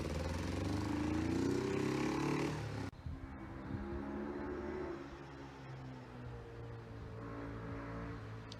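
An old motorcycle that had not been ridden in over twenty years runs on its first ride, engine droning loudly up close, then cutting to a steadier, quieter running tone for the rest.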